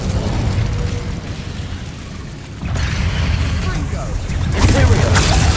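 The Incendio fire spell cast in Hogwarts Legacy: a roaring whoosh of flame over steady game noise, swelling into a louder burst toward the end, with a voice speaking over it.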